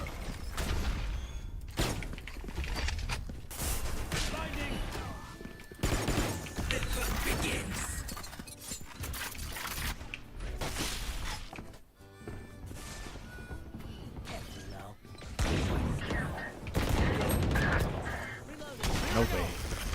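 Video game gunfire comes in repeated loud bursts and cracks over a busy, dense mix, with a player's voice talking over it at times.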